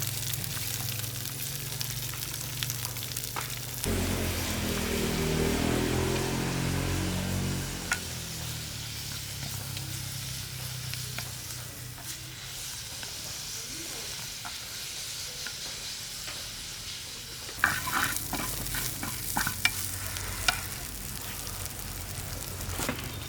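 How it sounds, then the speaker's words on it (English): Eri silkworms fry and get stirred in a pan until dry, giving a steady close sizzle with scraping stir strokes throughout. A few sharper clicks come near the end, and no one speaks. "Fry them until they're dry and fragrant, then place them on a plate and sprinkle lemon leaves on top."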